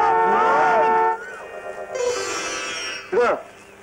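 Loud, close vehicle horn honks in tonal bursts: a long blast, a pause, another sustained honk, then a brief sharp toot.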